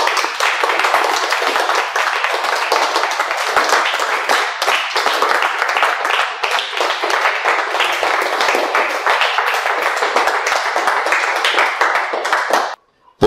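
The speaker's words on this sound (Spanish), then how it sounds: "Démosle ese fuerte aplauso, papito Dios." A church congregation gives a loud, sustained round of clapping, many hands in a dense, continuous patter that holds steady for over ten seconds before stopping abruptly.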